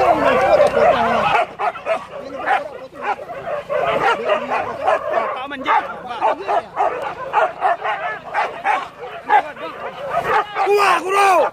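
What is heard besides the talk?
hunting dogs barking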